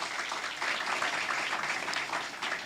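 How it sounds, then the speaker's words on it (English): Audience applause at a Saint Lucia tourism ambassador announcing event honouring Julien Alfred, a steady dense wash of clapping sustained throughout without clear pauses. "let's give a round of applause"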